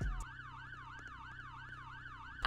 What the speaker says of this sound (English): There's a horse, there's a siren.